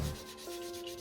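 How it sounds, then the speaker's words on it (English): Wet sanding of scooter paint by hand with 800 grit waterproof paper and plenty of water, a short, faint, steady rubbing swish, close and alone. "We'll give this a light sanding and then a polish up."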